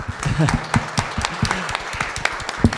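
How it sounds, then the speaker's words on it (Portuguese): An audience at a business summit gives a round of applause, with scattered claps and a few louder individual hits under voices talking through it. "Uma salva de palmas"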